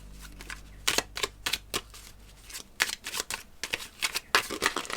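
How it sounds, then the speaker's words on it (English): A deck of cards being riffled and shuffled, quick bursts of crisp flapping clicks in a few separate runs, close by. "I'll give it a little shuffle and then I'll pull one."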